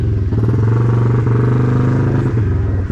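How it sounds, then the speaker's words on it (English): Several motorcycles starting up and idling close by in the start-up area at the Kop Hill Climb, a loud, steady engine drone with a chugging, harmonic beat and slight revs, no one talking. "We're near the motorcycle start-up area, so it's a bit, do apologise for the noise."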